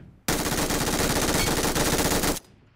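Sustained automatic gunfire from a weapon in a first-person shooter video game, a rapid, loud, continuous burst lasting about two seconds before cutting off abruptly.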